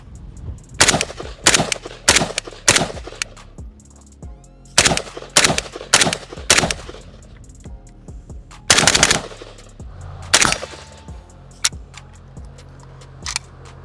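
A Clayco Chinese-import AK rifle fires Polish GROM ammunition outdoors in loud, sharp bursts of rapid shots, with several separate strings broken by short pauses and no talking.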